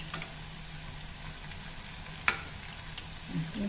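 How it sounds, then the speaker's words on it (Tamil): Medu vada deep-fry in hot oil in a pan, a steady close sizzle and bubbling with a brief utensil tap, and no one talking. "இந்த மாதிரி வடை மிதந்து வந்ததுக்கப்புறம் திருப்பி போடணுங்க"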